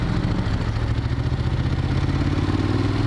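A Ducati Monster 1200 motorcycle engine drones steadily while riding in touring mode, a loud, rough, continuous rumble with slight rising pitch and wind noise.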